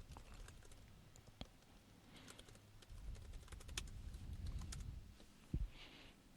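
Fingers type on a computer keyboard while someone writes parsing code, giving faint, close, irregular key clicks in loose bursts with short pauses and a couple of sharper taps, with no voices.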